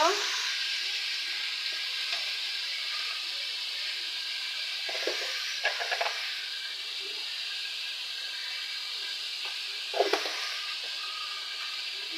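Pumpkin pieces and green chilies fry with lightly browned onions, a steady bright sizzle with occasional louder bursts of spatter and stirring, close and without speech.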